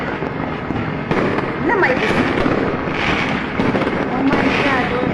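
Firecrackers go off near a fire, a continuous crackling and popping barrage with dense rough bursts over several seconds, loud and close, while excited people shout and talk over it.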